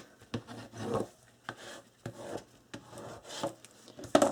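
Score tape pressed onto paper is rubbed down with a burnishing tool in a series of short, close scraping strokes with no talk.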